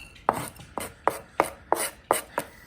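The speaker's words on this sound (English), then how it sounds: "we're gonna scrape all of this into this bowl here" A spatula scrapes a thick almond paste into a bowl in seven steady, evenly spaced strokes, each a short, close, rasping swipe with quiet pauses between.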